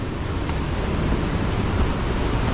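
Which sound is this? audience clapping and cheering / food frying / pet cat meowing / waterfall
waterfall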